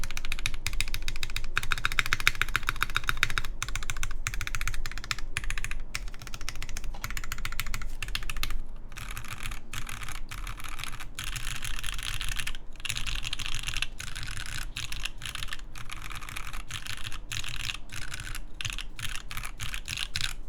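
Fast, steady typing on a Parabolica60 mechanical keyboard, a close run of crisp clacking keystrokes with brief pauses and no talk.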